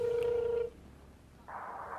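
A phone call to a hotline placed on a flip phone, with a steady electronic tone, then a pause, then a second ringback tone coming over the line, close and clear with no talking.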